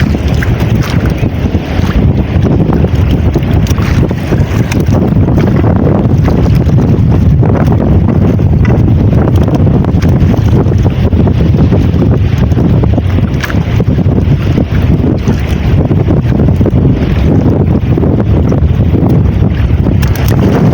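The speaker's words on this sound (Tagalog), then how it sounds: "Tatlong araw na itong sunod-sunod na amihan." Strong northeast monsoon wind buffets a small boat out at sea, a loud unbroken roar of wind on the microphone mixed with engine rumble and rushing water, steady for the whole stretch.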